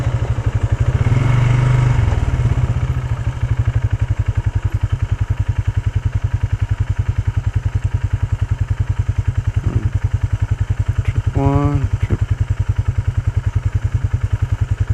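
Polaris Sportsman 570 ATV engine running steadily close up on a trail ride, a loud continuous mid-pitched drone with a brief rev burst early and a short rise near the end.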